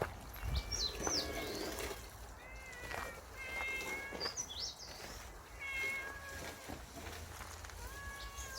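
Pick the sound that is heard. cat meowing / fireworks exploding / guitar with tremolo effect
cat meowing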